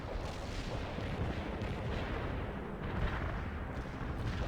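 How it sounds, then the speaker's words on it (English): A dense artillery barrage in the video game World in Conflict rumbles continuously, overlapping booms and blasts forming a loud, unbroken roar with no pauses. "Commencing the attack. Commencing the barrage."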